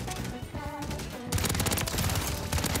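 Rapid gunfire from the video game Call of Duty Modern Warfare 3 crackles in dense, overlapping bursts that grow louder and thicker partway through, over a busy background of in-game noise.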